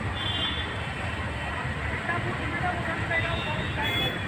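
ZDM3 narrow gauge diesel locomotive on the Kalka-Shimla railway runs with a steady low rumble and faint wheel clatter, continuous and fairly close, with someone talking over it at times.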